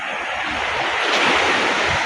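Strong sea waves break in a continuous rushing roar on an overcast January morning, loud and close, with steady hiss and no voices.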